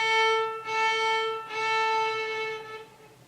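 Violin notes bowed with the same bow length on every note, giving a steady, rich harmonic tone with two clear note changes, sounding plain and unshaped, played alone at close range.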